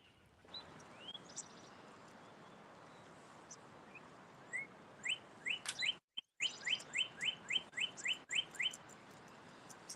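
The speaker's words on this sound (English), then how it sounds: "Them birds just a chirping." Birds chirp repeatedly over a steady outdoor hiss, with a run of quick, evenly spaced tweets near the end, fairly close and clear.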